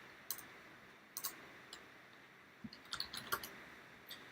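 Computer keyboard typing, a handful of sparse, quiet key clicks scattered irregularly over a low background hiss, with a short cluster of taps near the end.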